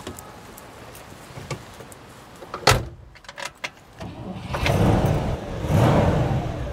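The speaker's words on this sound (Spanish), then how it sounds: "William, escucha este carro cómo arranca" A car door clunks shut on a 1958 Cadillac Sedan Deville, a few clicks follow, then its engine cranks and catches, rising into a steady nearby rumble.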